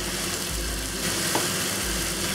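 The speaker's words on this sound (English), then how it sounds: "give this a good stir. And let this cook for about 30 seconds." Chicken and asparagus stir-frying in a wok with honey black pepper sauce, oyster sauce and sesame oil, giving a steady close sizzle and faint scraping of stirring throughout, with no talk.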